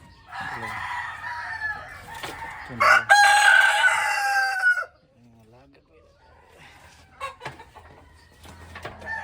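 A Rhode Island gray rooster lets out one loud, close crow, followed by softer scattered clucks and calls.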